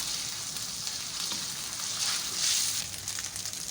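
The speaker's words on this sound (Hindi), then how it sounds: "अदरक लहसुन को 2 मिनट हम फ्राई करेंगे।" Ginger and garlic frying in mustard oil for beef achaar gosht, a continuous close sizzle that swells briefly in the middle and stays steady throughout, with no voices.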